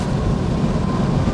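An electric car with a simulated manual gearbox is under power, giving a steady, continuous whine over a low road and drivetrain rumble that holds throughout. No one speaks.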